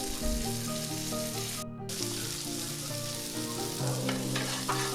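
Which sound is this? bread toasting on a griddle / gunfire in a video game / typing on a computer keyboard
bread toasting on a griddle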